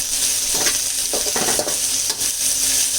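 Garlic, red chili, curry leaves and cumin are stirred while frying in a pan for a chuduva snack mix, giving a steady close sizzle with scraping stir strokes in uneven bursts and no talking.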